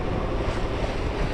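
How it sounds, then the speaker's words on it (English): Wind rushes steadily across the microphone aboard a sailboat at sea, a dense, continuous roar with the diesel idling and water beneath, no voices. "We found a little bit of wind."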